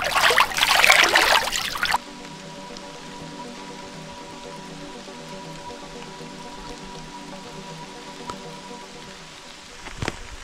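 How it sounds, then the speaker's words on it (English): Storm rain near a creek on a remote island, a loud rush of rain and wind for the first two seconds that drops to a soft, steady patter and trickle. "All right, the storm's here."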